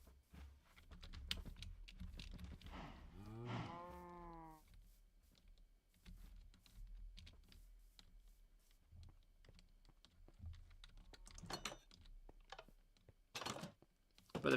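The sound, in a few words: cow mooing in Minecraft video game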